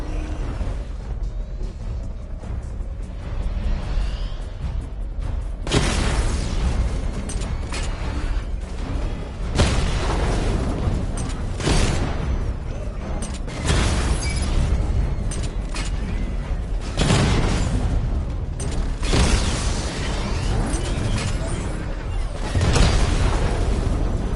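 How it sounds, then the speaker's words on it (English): Repeated heavy missile barrage blasts in a Batman video game, loud booming bursts arriving in waves with brief lulls between them, layered over a constant mechanical rumble. "Charge up missile barrage to level 2 and destroy 4 active targets to complete diagnostic test."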